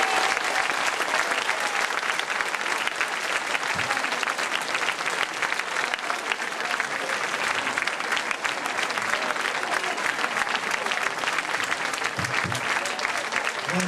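An audience at an evening show in Rocca San Felice claps continuously, with dense, even applause filling the whole stretch at a steady level.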